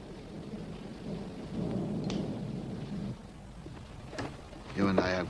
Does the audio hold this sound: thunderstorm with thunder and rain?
yes